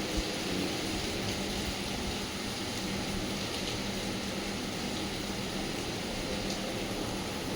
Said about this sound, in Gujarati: વરસાદ બંધ થવાનું નામ જ નહીં લેતું ભાઈ.